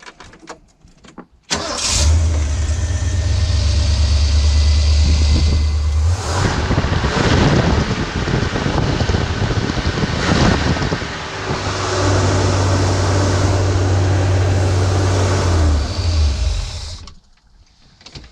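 A 1979 Ford Econoline E250 van engine cranks and catches, then runs loudly at a rough idle close by, briefly dipping before revving again and shutting off near the end.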